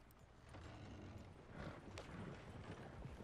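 Horse hooves clip-clop in Red Dead Redemption 2 as a faint, steady rhythmic patter under a dense game ambience, with no speech.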